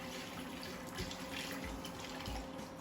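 Beef stock pours into a cooking pot for a beef stew, a steady liquid splashing and trickling that carries on without a break for a few seconds, close and moderately loud.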